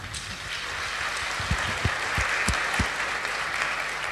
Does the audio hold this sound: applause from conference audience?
yes